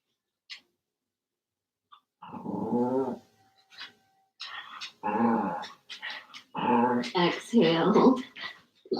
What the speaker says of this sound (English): you can notice that my little puppy is very in need of attention